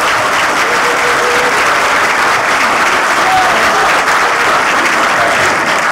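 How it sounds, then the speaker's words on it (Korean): Sustained audience applause fills a hall as a former party leader is welcomed to the podium to give a keynote address at a think-tank launch, dense and steady throughout. "박수 부탁드립니다."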